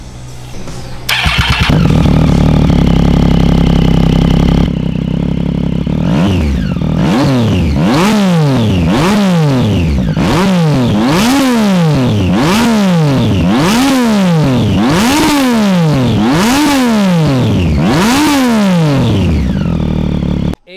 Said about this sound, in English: Now let's listen to the beautiful soundtrack melody done by this beautiful inline triple.